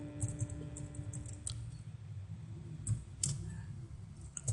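Code being typed on a computer keyboard in Visual Basic .NET, soft scattered key clicks in short irregular runs over a low steady room hum, fairly faint and close.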